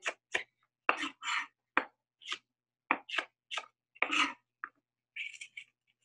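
A knife chops food into small quarter-inch cubes on a board, a quick series of separate crisp thuds in uneven rhythm, close and clear against near silence.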